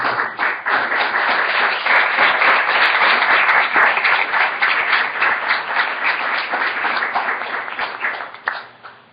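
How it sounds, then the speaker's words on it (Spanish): An audience at a convention talk applauds three people, sustained dense clapping that stays loud for about eight seconds before thinning out and fading near the end. "les pido un aplauso a las tres"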